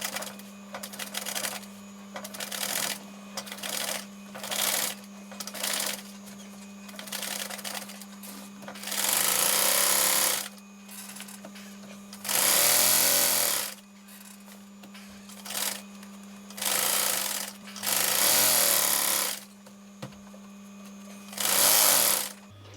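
A sewing machine stitches a zip into a camper cushion cover in repeated bursts, its rapid mechanical whir starting and stopping, with a steady electrical hum underneath between runs.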